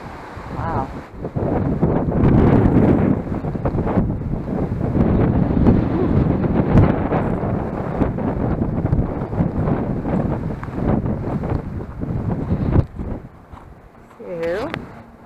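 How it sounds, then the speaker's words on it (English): Strong wind blows into the microphone outdoors at Eagle RV Park in Thermopolis, Wyoming, as a steady, loud, rumbling buffet that lasts nearly the whole stretch before easing near the end, with a voice speaking faintly underneath. "If you can't hear me, sorry, because it's the wind."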